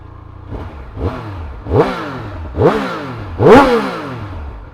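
A Triumph Speed 1200 RS motorcycle engine revs hard from idle, close up, in four rising blips that each grow louder than the last, with no talking over it.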